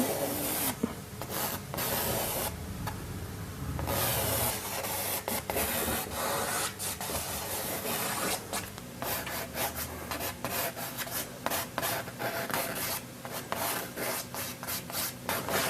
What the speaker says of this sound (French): je vais dessiner l'esquisse au fusain sur la toile